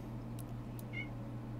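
A house cat lets out one short, faint meow near the middle, sitting over a steady low hum of computer game audio indoors.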